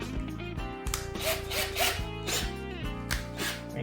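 A little drill bit bores through a Firefly 335 guitar pickguard, giving a steady, close whirring grind with a few brief surges, and no talking over it.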